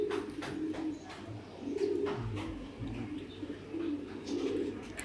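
Racing pigeons coo softly in repeated low, throaty phrases, fairly close and quiet, with faint background noise.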